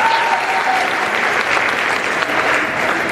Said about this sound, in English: Let's have a nice round of applause for your Republic cheerleaders and our six-man pep band